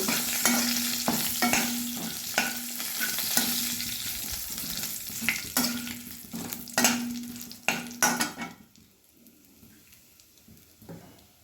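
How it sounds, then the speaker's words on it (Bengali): Bay leaves, torn dried chilli and cumin seeds fry in mustard oil, giving a steady close sizzle with scattered stirring clicks and scrapes, fading to quieter crackles near the end. "2টো তেজপাতা দিলাম, একটা শুকনো লঙ্কা ছিঁড়ে দিলাম, আর জিরে দিয়ে দিলাম। এবার একটু ভেজে নেব।"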